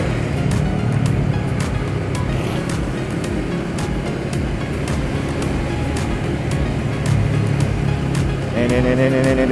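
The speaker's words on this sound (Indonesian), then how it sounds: "Mobil yang lewat gede-gede guys." Large cars rumbling past on a road in Indonesia, heard from a Honda CB 150X motorcycle, a loud steady engine and tyre roar with a passing horn-like tone near the end.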